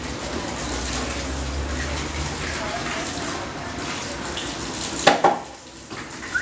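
Tap water runs in a steady hiss that stops near the end, followed by a few clattering knocks, with people talking under it.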